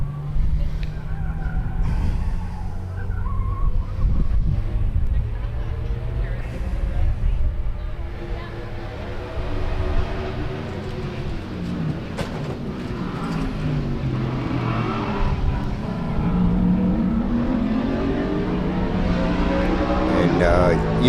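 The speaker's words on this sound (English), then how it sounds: "you can hear the GT cars" GT race cars at Sebring during the Love Bug Dash, a loud, sustained engine roar with rising and falling pitch sweeps as cars approach and pass, continuous for the whole stretch, with crowd and voices faintly underneath.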